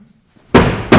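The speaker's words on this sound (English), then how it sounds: "What's he that knocks as he would beat down the gate?" Loud, close knocks on a gate: two heavy slamming impacts, the first ringing on for a moment before a second blow, with nothing else sounding between them.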